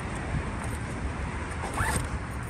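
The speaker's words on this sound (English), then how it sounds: "It's got two zippers to deflate quickly. So essentially, you'd have your zippers closed." A zipper on an inflatable wedge is pulled once, close by, giving a short rasping zip over a steady background rush, with no voices.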